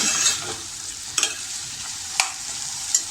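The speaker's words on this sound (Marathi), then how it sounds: "मी आता 2 मिनटं बटाटा परतून घेतला आहे. मी मध्यम आचेवरच ठेवलं आहे." Potato pieces sautéing in a pan over medium heat for cabbage masala, a steady bright sizzle with a few scrapes of stirring, close and continuous with no voices.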